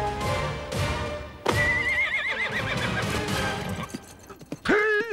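A horse in an animated cartoon clip-clops with a few hoof knocks, then lets out a loud, wavering neigh that trails off, followed by a second brief whinny at the end.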